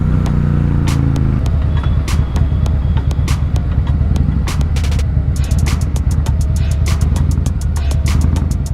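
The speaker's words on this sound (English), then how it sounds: "I sure hope you can hear those pops from the exhaust." A Harley-Davidson motorcycle engine runs steadily, punctuated throughout by repeated sharp exhaust pops and crackles, loud and close.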